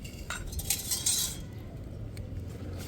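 Metal spoon clinking against a bowl while mixing spices for bread pakora, a few light bright chinks early on, then quieter stirring, close and soft.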